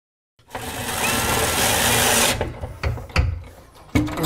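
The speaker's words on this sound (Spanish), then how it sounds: "no estoy perforando del todo, solo estoy poniendo los tornillos en su lugar" A power drill drives screws into kitchen cabinets during a DIY kitchen renovation, one steady whirring run of about two seconds, close and loud, then a few clunks and handling knocks.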